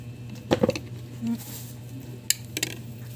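Garlic dropped into a container while a spicy vinegar dip is made, giving a couple of close clinks and soft knocks against the vessel over a low hum, then a few more light taps later.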